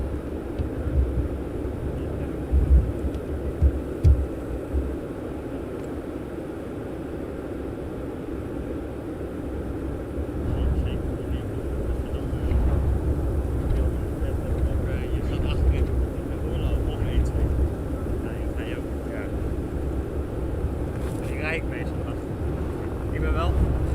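An airliner on final approach at Amsterdam Schiphol Airport gives a broad, steady jet roar that swells slightly in the distance. A person talks over it throughout.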